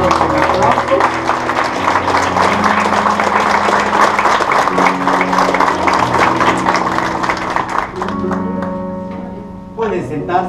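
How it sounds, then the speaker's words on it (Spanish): Wedding guests applaud steadily after the couple's kiss, a dense sustained wash of clapping with music and voices underneath, thinning out toward the end. "Un aplauso."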